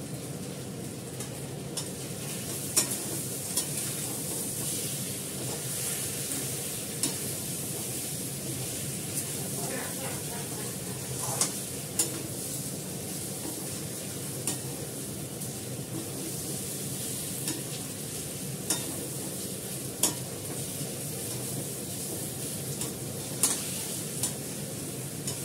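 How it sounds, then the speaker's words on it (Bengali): Mutton pieces are stir-fried in oil in a pan, releasing fat, a continuous dense sizzle with occasional spatula clicks and scrapes, steady and close throughout without talk. "মটনটা দিয়ে কষাচ্ছি, ওর থেকেও ভালো তেল বেরিয়ে আসছে"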